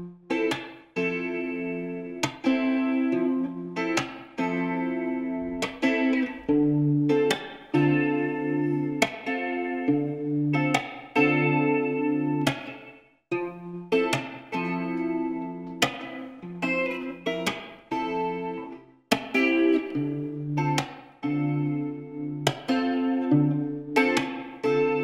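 Electric guitar played through chorus, spring reverb and Hot Tubes distortion, a slow romantic part of strummed chords and ringing notes, each attack decaying into a lush wash, loud and alone for about 25 seconds.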